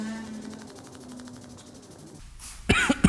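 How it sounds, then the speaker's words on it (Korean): Coughing set off by strong acidic wheel cleaner diluted one-to-one and sprayed on car wheels, a few sharp close bursts near the end after a hissy stretch. "같이 기침나."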